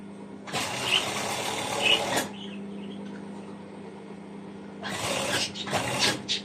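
Two bursts of a sewing machine stitching elastic onto flannel pyjama fabric, each a few seconds long, with a steady low motor hum running through the pause between them.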